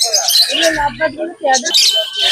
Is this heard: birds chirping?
yes